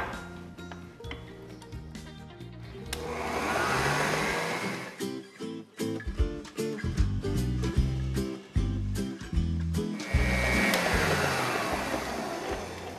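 Electric mixer whirs while beating cake batter with milk and flour for a naked cake, its motor swelling and dropping in uneven surges with clattering as the beaters work the bowl.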